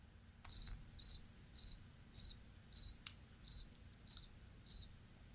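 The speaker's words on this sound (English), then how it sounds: "And play a cricket sound." A cricket sound effect chirps in eight evenly spaced bursts, each a quick trill, loud and close against near silence.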